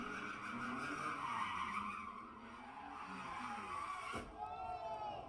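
Tires squealing and skidding as a car does donuts at a car meetup, a loud sustained screech with wavering pitch and engine noise beneath, building then briefly cutting off near the end.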